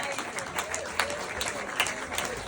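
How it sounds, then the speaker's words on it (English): A modest audience at a talk claps in a short, fairly soft burst of applause, with individual claps audible in the steady patter. "Round of applause."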